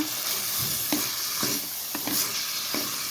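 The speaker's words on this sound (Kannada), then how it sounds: "ಇವಾಗ ಬಟಾಣಿ ಕಾಳು ಹಾಕ್ಕೊಳೋಣ ಹಸಿ ಬಟಾಣಿ ಇದು ಅರಿಶಿನ ಪುಡಿ ಕಲ್ಲುಪ್ಪು ಇವಾಗ ನೀಟಾಗಿ ಮಿಕ್ಸ್ ಮಾಡ್ಕೊಳೋಣ" Chicken pieces and fresh green peas with turmeric powder and rock salt being stirred in a hot oiled pan, a steady sizzle broken by several distinct scraping strokes of the spatula, with no talking.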